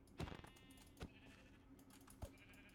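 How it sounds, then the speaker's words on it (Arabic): Sheep in the Minecraft video game bleat in a few short, moderately loud calls spaced over a couple of seconds, with faint clicking in the background. "خروف"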